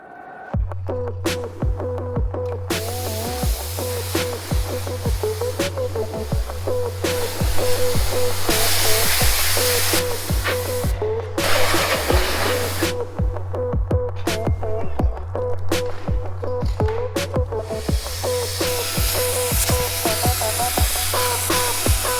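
A pressure washer rinsing a heavily grimed pickup truck during auto detailing, a steady loud motor drone with hissing spray that swells and drops in intensity, briefly cutting off and restarting over a long stretch, without talking.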